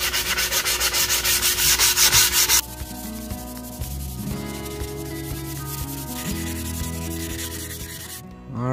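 Steady, loud rasping of sandpaper rubbed back and forth on a walnut and maple canoe paddle, then quieter scraping and clunky handling noises continue until a final burst.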